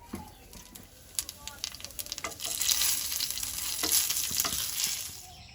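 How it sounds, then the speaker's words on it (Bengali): Dried red chillies, bay leaf and whole cumin seeds crackle and sizzle in hot oil in a frying pan, the spitting rising and swelling partway through, close and steady with scattered pops. "ফ্রাই প্যানে তেল দিয়ে দিচ্ছি, একটু শুকনো লঙ্কা আর তেজপাতা,"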